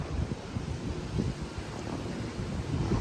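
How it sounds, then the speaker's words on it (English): Steady wind buffeting a microphone outdoors at Disney's Hollywood Studios theme park, a low rumbling roar with gusts rising and falling throughout, no voices. "It's very windy out."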